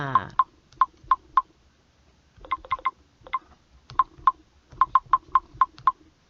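Quick, clicky tapping system sounds from a Samsung smartphone keyboard, irregular bursts of several taps with short pauses between, close and crisp.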